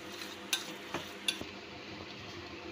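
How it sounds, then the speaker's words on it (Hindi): Vegetables being stirred into a semolina and yogurt batter for semolina kebabs, with a few soft scraping clicks of a spoon against the bowl and quiet, sparse handling noises at close range. "इसको अच्छी तरह से हम कर लेते हैं मिक्स ताकि तमाम सब्ज़ियाँ सूजी और दही के बैटर के साथ अच्छी तरह से मिल जाएँ"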